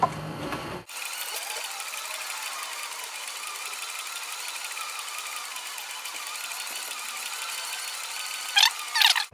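A sewing machine stitches a leather western-style holster for a 1911 using size 277 nylon thread and a size 25 needle, running as a steady continuous mechanical whir throughout after a brief start.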